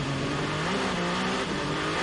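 A race car at the 6 Hours of Imola endurance race spinning its wheels on four cold new tyres, a loud, rough engine roar with a rising pitch over two seconds, heard alone.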